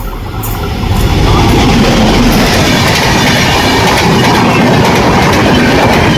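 A loud, close Konkan Railway train roars past, its rolling rumble and rhythmic clickety-clack of wheels filling the scene without pause.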